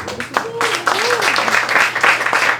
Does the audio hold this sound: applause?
yes